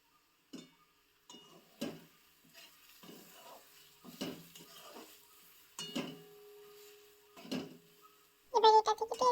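Turmeric and Kashmiri chilli masala cooking in a pan, heard as intermittent spoon scrapes and stirs over a quiet sizzle, ending in a louder burst of frying.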